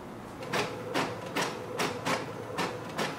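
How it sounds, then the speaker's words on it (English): An HP printer printing a document over a wireless connection, giving a rapid series of sharp mechanical clacks and feed whirs in an uneven rhythm, close and fairly loud. "So here we can see it has started to print."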